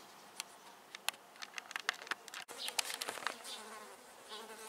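Flies buzz around barbecued shashlik at a countryside dacha, the faint hum punctuated by quick close passes and scattered ticking sounds, with no speech.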